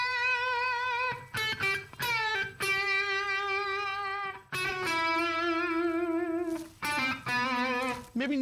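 Electric guitar notes picked with a Jazz Tortex pick: sustained harmonic-rich tones and short phrases with several distinct note attacks and small pauses, heard alone and close.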